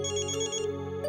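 A mobile phone ringtone plays a short, bright repeating melody indoors, close and clear, breaking off briefly before starting again.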